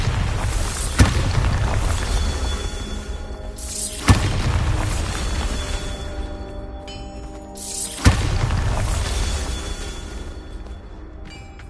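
Three heavy booms from the Bombarda spell in Hogwarts Legacy land several seconds apart, each a sudden blast that settles into a rumbling tail under a steady bed of game sound.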